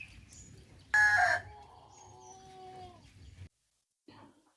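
A single native rooster crows once, a drawn-out call that trails off, fairly quiet against a calm background on a rainy day, followed by near silence.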